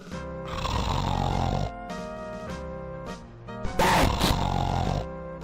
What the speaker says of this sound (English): That's quite the loud snoring there.